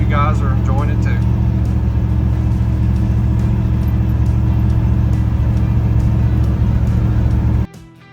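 A 1966 Pontiac Tempest hot rod with an LS swap and a new TH350 transmission drives along, its engine a loud, steady low drone with road rumble from inside, briefly under a voice at the start before cutting off near the end.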